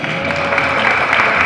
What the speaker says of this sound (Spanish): Pido un aplauso especial para Ángeles González Gamio,